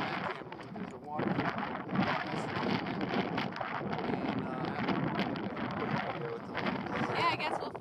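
Gusty wind buffets the microphone at Waimea Canyon Lookout in Hawaii, a loud rumbling rush that rises and falls throughout, with people talking faintly underneath.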